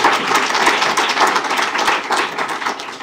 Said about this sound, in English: Yes, you can clap for that.